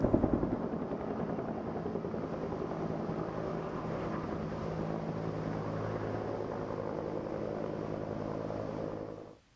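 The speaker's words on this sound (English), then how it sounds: "they just thought it would be better to do it with a helicopter" A helicopter drones steadily with a rapid rotor thump, sustained and fairly distant, then cuts off abruptly at the end.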